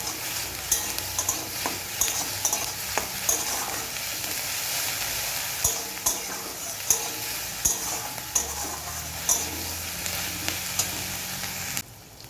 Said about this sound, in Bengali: পেঁয়াজটাকে এবারে লাল লাল করে ভেজে নেব।